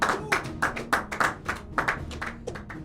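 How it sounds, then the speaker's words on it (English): Audience clapping at a mock courtroom comedy show, a short, loose burst of hand claps from a small group, fairly close and steady, fading slightly toward the end. "You don't have to clap."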